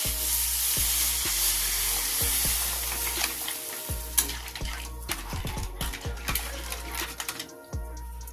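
Sea crab masala sizzles loudly in a pan as water is poured in, with steady frying hiss, scattered crackles and repeated clinks of a spoon against the pan, close and continuous.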